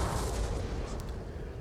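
Napoleonic-era artillery fire in the John Tiller Napoleonic Series game's Battle of Eylau, a dense, continuous low rumble of booming cannon that stays loud and steady throughout, with no voices over it.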